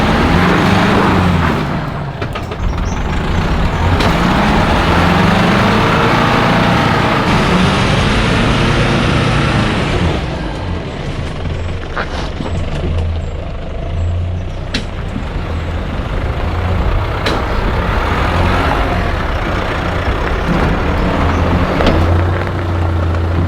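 A 4WD with a locker climbs a rocky hill track, its engine a loud, steady rumble with rattles and knocks running unbroken throughout.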